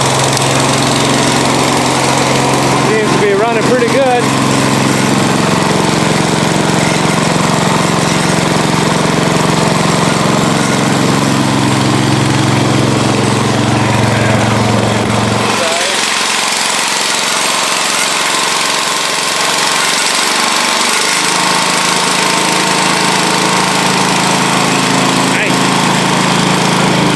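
A Cub Cadet lawn tractor engine runs steadily and loud, close by, with a rough, knocking drone that drops to a lighter idle partway through and keeps going to the end.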